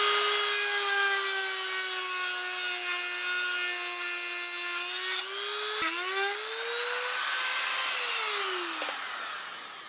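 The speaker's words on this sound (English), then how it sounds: "So I'm going to try a Dremel, see if I can't get that hole round in the right spot." Dremel rotary tool grinding a hole in a Suzuki GS850 engine part, a loud steady high-pitched whine with strong harmonics that dips and shifts pitch as the bit bites, then rises again toward the end.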